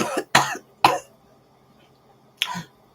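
A few sharp coughs close by, three in quick succession and then one more after a short pause.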